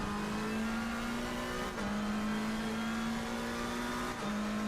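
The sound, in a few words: race car engine, Assetto Corsa Competizione video game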